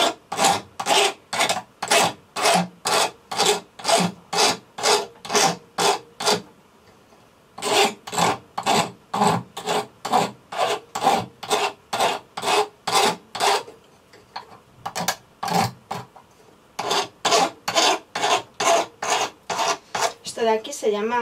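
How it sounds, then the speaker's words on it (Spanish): Steady rhythmic rasping of a hand file on wood braced on a bench pin, long forward strokes repeating evenly in loud close runs with brief pauses between sets, no talking. "la lima siempre en sentido de avance"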